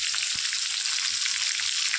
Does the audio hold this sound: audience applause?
no